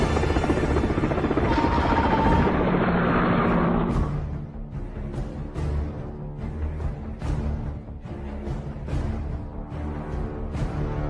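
An aircraft takes off with a loud, dense engine roar for the first few seconds. It then settles into a steady, droning rotor-like hum with sharp thumps scattered through it.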